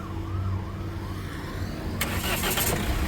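A 2017 Mahindra XUV500 W10 engine cranks briefly and catches on a single start, settling into a low running hum, close by with no voices.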